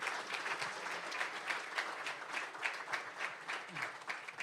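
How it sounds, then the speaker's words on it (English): An audience at a startup demo day event gives steady, full applause, a dense wash of many clapping hands at moderate distance, lasting throughout with a faint voice or two underneath. "Let's give him a big round of applause."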